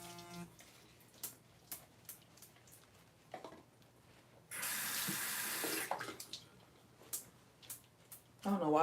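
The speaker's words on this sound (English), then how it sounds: "So now I'm going to go ahead and rinse my brush off." A bathroom tap runs into a sink as a brush is rinsed under warm water, a steady rushing stream lasting over a second between scattered clicks, taps and handling noises nearby.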